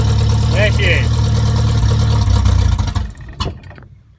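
A 1951 Triumph Renown Razor Edge Saloon engine runs roughly after starting, running rich with too much fuel, a loud close rumble that cuts out near the end while a person speaks.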